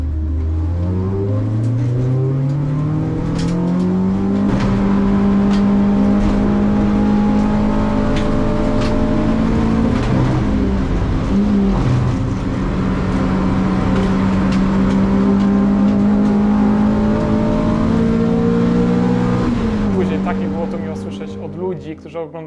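A race car is driven at full throttle during a race, its engine holding a loud, sustained high drone close up with shifting pitch, before easing off at the end.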